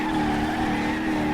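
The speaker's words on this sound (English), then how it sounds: "clutch in and just rev the balls off it and drop the clutch" In the driving game BeamNG.drive, a car engine is revved hard with the clutch in before the clutch drops, giving a loud, sustained, continuous drone across the whole short moment.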